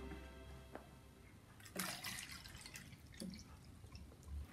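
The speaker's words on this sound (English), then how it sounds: "Then pour the white vinegar." White vinegar is poured over an egg in a container, with quiet liquid trickling and splashing, a couple of sharper pours, and faint dripping at close range.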